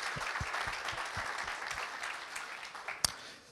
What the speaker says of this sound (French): Je pense qu'on peut les applaudir parce que c'est du bénévolat